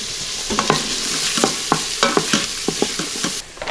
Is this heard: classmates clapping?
no